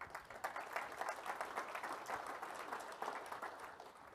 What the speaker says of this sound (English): big round of applause to all of our membership that make this happen